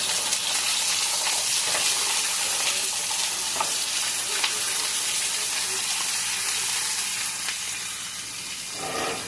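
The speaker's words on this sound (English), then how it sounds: "Go cook some sausage." Sausage frying in a hot iron skillet, a dense continuous sizzle and crackle with occasional scraping stirs, steady and close throughout.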